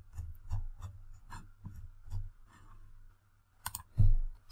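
Keys tapped on a computer keyboard during coding, a quiet, irregular run of separate clicks with short pauses and a sharper burst near the end, no talk over them.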